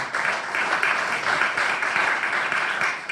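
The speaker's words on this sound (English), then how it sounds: "a round of applause" Steady audience applause at a Conservancy board business meeting, a continuous even patter of many clapping hands at moderate loudness, with no voices over it.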